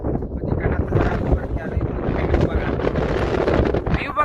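Outdoor wind buffets a phone microphone in a continuous, loud, low roar that rises and falls in gusts for the whole stretch, with no clear break.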